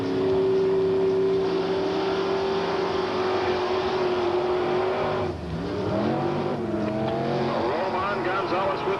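Two drag cars, a 1956 Chevrolet and a 1968 Z28 Camaro, race heads up: a loud sustained engine roar holds steady, then shifts and revs rise again, with an announcer talking over the noise.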